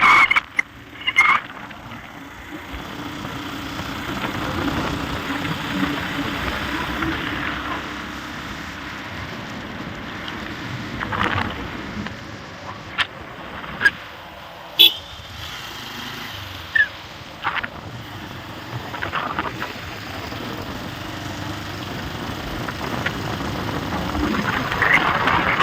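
A Pulsar motorbike riding along a mountain road in Arunachal Pradesh, its engine a continuous rumble with wind and road noise throughout and occasional sharp knocks and clicks, no talking.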